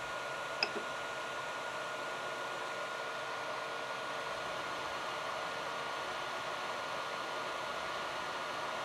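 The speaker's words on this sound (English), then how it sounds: "Now the stepper's working on its own." Ender 3 3D printer stepper motor feeding filament after a jam, a steady faint whirring hum that holds evenly throughout with one small tick near the start, no voices.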